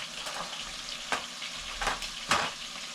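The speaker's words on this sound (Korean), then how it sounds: "튀겨지는 게 아주 옷이 이렇게 이쁘게 잘 입어서 튀겨지고 있어요." Battered vegetables deep fry in a pot of hot oil. A soft, continuous sizzle carries a few sharper crackling bursts, heard alone and fairly quiet.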